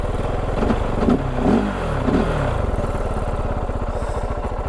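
Kove FSE 450R rally motorcycle engine running nearby, a loud pulsing single-cylinder thrum with a few brief blips of revving early on, then settling into a steady idle-like rhythm.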